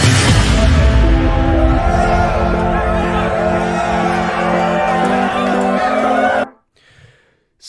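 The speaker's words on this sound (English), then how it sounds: "a little more cheering here and singing along with the track again" Simulated live-performance crowd cheering and singing along with a music track, loud and continuous over the song with voices blending into the mix, then cutting off abruptly near the end into near silence.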